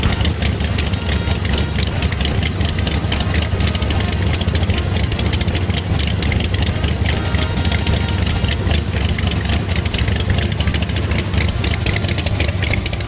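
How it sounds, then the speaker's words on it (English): An antique 1899 irrigation engine runs steadily close by, a loud, even mechanical chugging and rumble that continues unbroken with no talk. "This engine right here was built in 1899."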